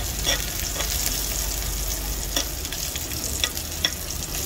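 Ginger and aromatics frying in a spoonful of hot oil in a pan, a steady close sizzle with occasional small pops and crackles.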